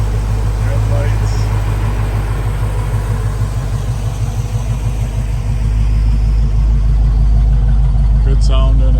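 A 1953 Chevrolet 3100 pickup idles through its exhaust, giving a steady, deep, pulsing rumble close by with a slight rise in revs, and a faint click near the end.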